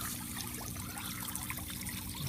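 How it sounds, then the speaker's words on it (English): Water trickles from a siphon tube down through aquarium gravel, making a faint, continuous dribbling under a low steady hum, with no voices. "it constantly flows water through that gravel"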